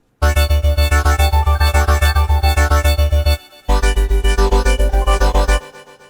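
Color bass presets built in Vital play as two loud, fast-pulsing phrases of rhythmic chopped chords with a heavy low end, separated by a short gap and ending in a quieter tail.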